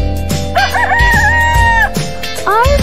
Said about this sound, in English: R for rooster.